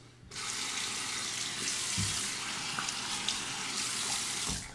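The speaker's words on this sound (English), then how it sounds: "A quick face rinse." A bathroom tap runs steadily into a sink for a quick face rinse during a shave, a close, continuous water rush beginning after a brief quiet start with small splashes near the end.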